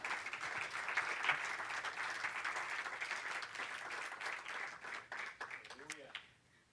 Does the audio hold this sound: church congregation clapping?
yes